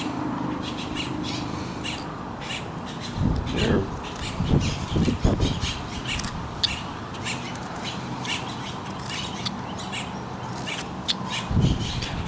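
Birds call repeatedly outdoors, a mix of chirps and harsher caws at moderate distance, over steady background noise with some low rumbling.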